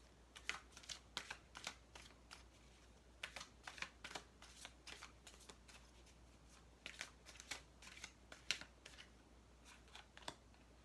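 Tarot cards being shuffled in quick riffling bursts, repeated many times with short pauses between, close up and fairly quiet.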